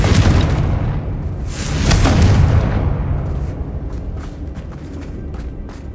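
A Confringo spell explosion goes off in the video game Hogwarts Legacy as a loud, deep boom that swells around the two-second mark and then rumbles and slowly fades, with scattered crackling debris afterward.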